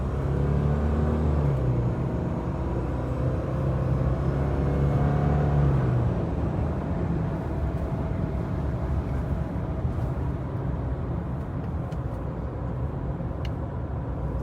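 A 2024 Subaru Crosstrek Wilderness cruises along with a steady engine hum, tire roar and road rumble heard from inside the cabin, rising briefly in pitch as it accelerates, then settling into constant, fairly loud road noise.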